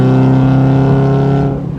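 A Mazda Miata engine with a failing motor drones loudly at a steady high pitch in fourth gear up to 4,000 RPM, holding revs before dropping off with a brief crackle at the end.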